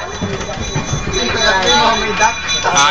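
A train ride on a school field trip: a loud, steady rolling rumble with a squealing edge, heard under voices chattering close by.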